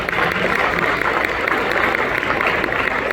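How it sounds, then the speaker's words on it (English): Audience at a Toyota motoring awards evening in South Africa giving a sustained round of applause, broad and continuous with crowd murmur mixed in. "Let's give them both a round of applause."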